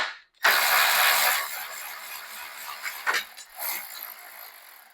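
Ratchet with an 8 mm socket turning a condenser bolt on a 2016 Jaguar XF, a loud burst of rapid clicking followed by shorter ratcheting bursts, close up with no talk.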